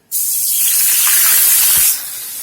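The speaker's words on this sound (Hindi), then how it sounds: "धीरे धीरे दूध डालेंगे" Full-cream milk poured slowly into a hot pan, giving a loud, close hiss of sizzling steam that rises quickly and holds steady for about two seconds before easing off.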